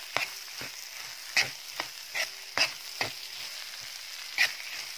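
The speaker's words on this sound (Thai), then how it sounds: "เริ่มผัดส่วนผสมเข้ากันแล้วเดี๋ยวเราก็ปิดไฟนะคะ" Canned fish fried rice is stir-fried in a pan, with a continuous sizzle broken by repeated sharp spatula scrapes and clacks at an uneven rhythm, close and clear.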